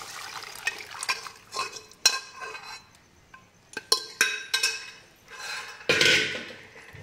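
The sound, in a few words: cooked dal added to spinach in a pot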